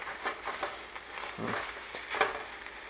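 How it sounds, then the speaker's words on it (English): Food sizzles and crackles steadily in a hot pan, with occasional soft stirring and scraping sounds, fairly quiet and close. "this is kind of frying on me here"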